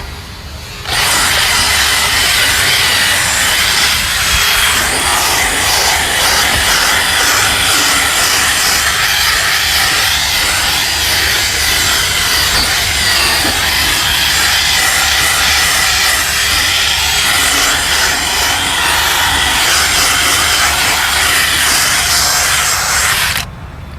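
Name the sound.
drill brush scrubbing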